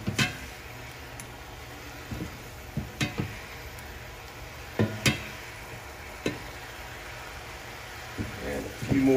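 Garlic shrimp sauce sizzles steadily as it cooks down in a pan, with scattered utensil clicks and taps against the pan throughout. A person talks over the cooking.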